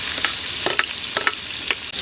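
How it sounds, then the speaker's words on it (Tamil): Onions sautéing in oil for a village-style country chicken gravy, a steady close sizzle broken by several sharp scrapes and stirs of a spoon in the pan, with no talking. "வெங்காயத்தை நல்லா பச்சை வாசனை போக வதக்கிக்கிறேன்"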